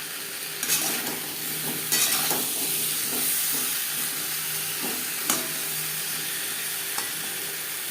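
Potatoes sizzle in a pan while being stirred with salt, turmeric and spices, giving a continuous close frying hiss with repeated spoon or spatula scrapes at irregular intervals.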